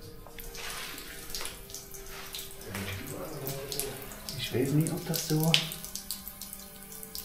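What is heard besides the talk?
water running from a fire hose in an abandoned hotel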